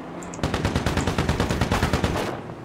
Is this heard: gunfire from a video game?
yes